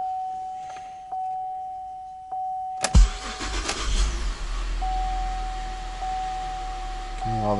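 Buick Enclave engine starting after an oil change: a chime beeps steadily, then the starter cranks briefly and the engine catches and settles into a loud, close idle.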